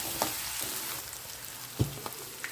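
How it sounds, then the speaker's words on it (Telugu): Onions for mushroom curry sizzle softly in a pan, a steady faint frying hiss with a few small clinks and taps of stirring. "చక్కగా ఉల్లిపాయలు ట్రాన్స్పరెంట్ అయ్యేంత వరకు వేయించి పెట్టుకోవాలండి"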